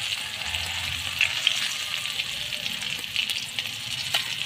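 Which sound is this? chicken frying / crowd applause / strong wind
chicken frying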